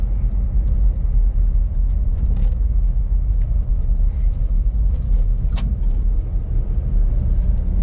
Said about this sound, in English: This is a really pretty drive though.